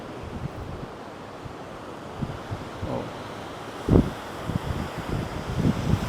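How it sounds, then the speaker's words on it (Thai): Sea surf at Koh Lanta, Krabi, rolls onto the shore with a steady wash and wind rumble, one heavier wave breaking near the four-second mark and more surges after. "วันนี้ต้องบอกว่าน้ำทะเลขึ้นแรงเหมือนกันเห็นซัดเข้ามาฝั่งแล้ว"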